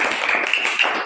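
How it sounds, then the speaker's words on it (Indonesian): A group of students clapping their hands in a classroom, a short burst of dense, brisk applause close by. "Ayo beri tepuk tangan kepada kelompok siswa"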